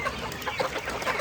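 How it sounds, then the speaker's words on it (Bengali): Sonali high super parent chickens on a poultry farm, a dense overlapping chorus of clucks and murmuring calls from many birds nearby, steady and busy with no speech. "এটা হচ্ছে আমাদের সোনালি হাই সুপার প্যারেন্ট"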